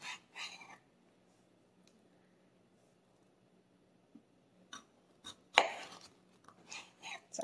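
A knife chops potatoes on a board in a home kitchen, heard as sparse, close, soft thuds in short clusters separated by near silence.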